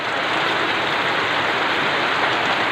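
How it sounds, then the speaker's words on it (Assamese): Heavy monsoon rain pours down steadily in a dense, unbroken hiss, loud and close, with no voices over it. "চাওক কিমান ডাঙৰ বৰষুণ দিছে আজি বন্ধুসকল"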